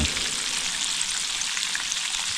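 Chicken fries slowly in a pan with a steady, close, even sizzle and crackle, dense and unbroken from start to end.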